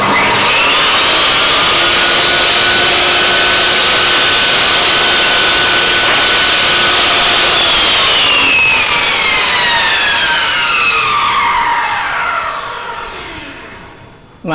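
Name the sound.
Bosch GTS 10 J table saw starting up with soft start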